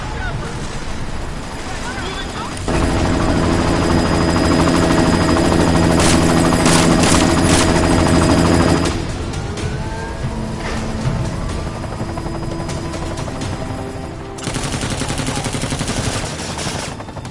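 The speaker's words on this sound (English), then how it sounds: "You've got to stop that chopper." Combat scene in the video game Deus Ex: Mankind Divided, with a loud, steady helicopter rotor drone under bursts of automatic gunfire, and game dialogue over the din.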